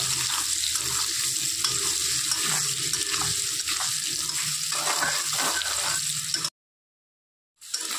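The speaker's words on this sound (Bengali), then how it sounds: "সামান্য একটু হলুদ গুঁড়ো দিয়ে দেব, নুন দিয়ে আলুগুলো একটু ভেজে নেব।" Potatoes fry in a pan with turmeric and salt, giving a steady, loud sizzle with rhythmic stirring scrapes that stops abruptly near the end.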